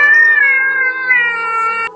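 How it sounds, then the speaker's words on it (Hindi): A black cat lets out one long, drawn-out meow, loud and close, wavering in pitch for about two seconds with no other sound around it. "तभी एक काली बिल्ली कहीं से छलांग लगाकर आई"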